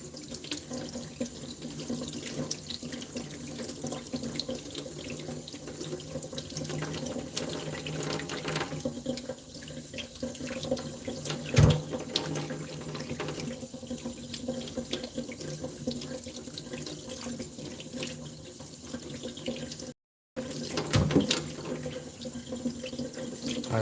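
Tap water runs steadily into a kitchen sink while freshly caught crappie eggs are rinsed, a constant close splashing hiss that cuts out for a moment near the end before resuming.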